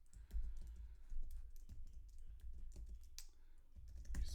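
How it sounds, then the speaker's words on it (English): Fingers tap out quick, irregular bursts of keystrokes on a computer keyboard, soft and close in a quiet room. "I'm going to just type some directions."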